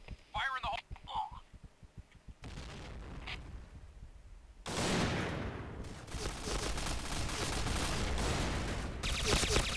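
In the Point Blank shooter video game, a rapid burst of gunshots gives way to a loud grenade blast and sustained heavy firing; a voice speaks in the background.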